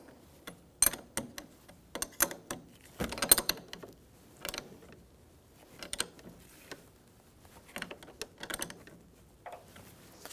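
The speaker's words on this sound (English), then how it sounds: "you're going to have a 1/2 inch or 13mm wrench or socket and snug this up" A 13mm wrench snugs down the negative battery cable nut on a 1997-2006 Jeep Wrangler 2.4L, giving sparse metallic clicks and short ratcheting scrapes in separated bursts, close up and fairly quiet.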